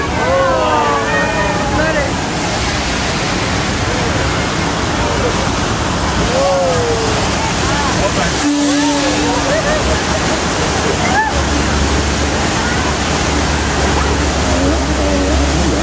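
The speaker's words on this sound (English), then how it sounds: "Oh no, I think the water main just broke." A staged burst water main flood on the Universal Studios Hollywood tram tour gives off a loud, constant roaring gush of water, with people's voices and excited chatter audible over the torrent.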